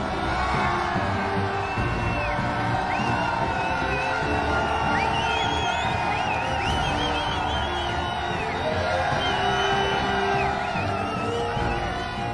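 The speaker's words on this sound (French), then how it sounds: "C'est l'entrée triomphale sous une nuée d'applaudissements." A large football crowd applauds and cheers at a team's triumphal entrance onto the pitch, with dense continuous roaring, whoops and shouts filling the space.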